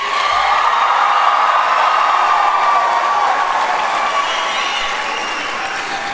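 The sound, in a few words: graduation crowd cheering and applauding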